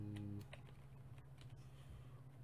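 Fingers type on a computer keyboard during a chess commentary session, a faint, steady patter of quiet key clicks running throughout with a low hum underneath and no talking.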